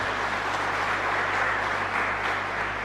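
Steady, dense applause from a church congregation at a live Mass in a chapel, honoring an 85-year-old, a continuous wash of clapping at even loudness throughout, with no talk over it.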